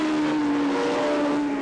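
A Honda 600 racing motorcycle in a 1988 Seniorstock 600 race holds a steady, loud engine drone at high revs, a sustained buzzing whine that stays even throughout.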